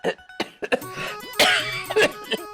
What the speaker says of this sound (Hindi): आपको तो खांसी हो रही है